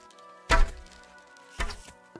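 An arrow strikes a target bullseye with a sharp, solid thunk. A second, softer impact follows about a second later, and both are close and clear against a quiet background.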